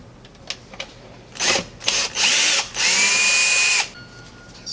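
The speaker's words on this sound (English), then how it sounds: "So now I'm going to remove the screws." A power drill backs screws out of a Samsung oven range during repair, giving several short, loud whirring bursts with pauses between them and one longer final run.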